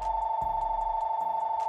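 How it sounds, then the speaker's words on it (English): A phone rings with a steady electronic trill that pulses rapidly and continuously throughout, loud and close with no speech over it. "why the fuck is my phone ringing?"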